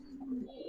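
A pair of checker icebar pigeons gives a brief, soft cooing note, close by and quiet, with no talk over it.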